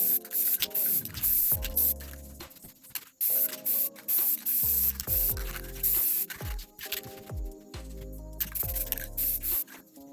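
Aerosol paint sprayed in repeated short bursts for a second coat of camouflage on a shotgun, close hissing blasts separated by brief pauses, with no talk.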